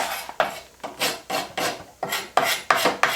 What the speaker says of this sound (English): I can also scrape along the edge, which gives another look to the distressing